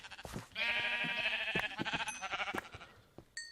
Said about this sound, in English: Spawn sheep.